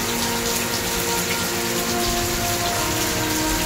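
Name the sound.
heavy rain falling in Malaysia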